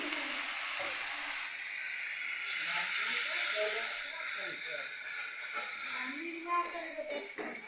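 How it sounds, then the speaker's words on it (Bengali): Hissing sizzle in a pan as water goes into a simmering rohu fish curry with turmeric and it is stirred, a steady bright steamy rush with faint scraping and a voice talking underneath. "এবারে একটু জল দিতে হবে"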